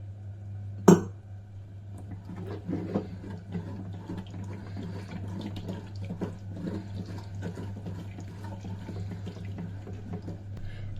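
Water pours into a cooking pot for tomato dal in a soft, steady trickle after a sharp clink at the start, with a low hum running underneath and no talking.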